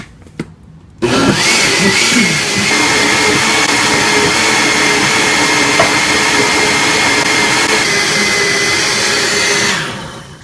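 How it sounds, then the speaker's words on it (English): An electric blender runs on salsa ingredients. After a brief quiet start it kicks on loud and close, a constant high whirring roar that holds steady for about nine seconds before cutting off. "Just mix it in, and then proceed with the blending."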